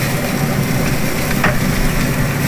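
Bacon crackling and burning on a grill with flames flaring, a steady dense sizzle with a faint low hum beneath it and one brief sharper pop.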